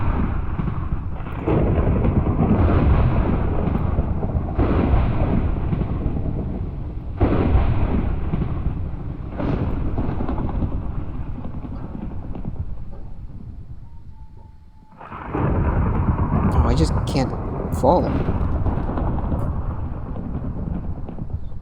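Hurricane storm in Minecraft: a loud, continuous roar of wind and rumbling thunder that surges and dips, briefly fading near the middle before crashing back in, with a player's voice heard briefly.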